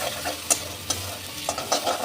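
Masala sizzles and fries in a pan for a Bengali rohu fish curry, with a spoon stirring it in several scraping strokes over a steady low hiss; no talking.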